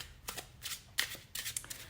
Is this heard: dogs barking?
no